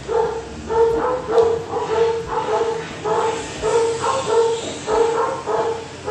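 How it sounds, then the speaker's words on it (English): Dogs bark repeatedly in a steady series of sharp, evenly spaced yips, fairly close and loud, with brief whimpers mixed in and a low background hum. "Sorry for the dogs."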